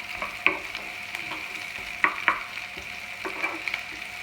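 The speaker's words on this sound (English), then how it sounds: "Throw in our garlic and our shallot. Just want to cook this off a little bit," Garlic and shallot sizzle in a pan, a steady, close frying hiss broken by several sharp clinks and scrapes as a utensil stirs them.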